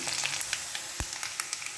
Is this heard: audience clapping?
no